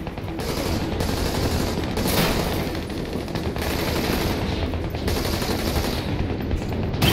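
Continuous automatic gunfire from the Army of Two video game, a loud, dense, sustained burst of rapid shots with little break.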